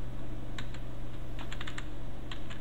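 Typing on a computer keyboard while entering text into a document: a few scattered keystrokes, then a quick cluster of clicks and a final short pair, close and crisp over a quiet steady hum.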